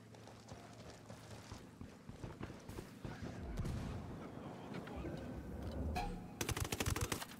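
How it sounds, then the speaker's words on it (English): Rapid submachine gun bursts in the video game Ghost Recon Wildlands, crackling volleys that build toward a loud, dense stretch of fire at the end amid game ambience. "Spotted one with submachine guns."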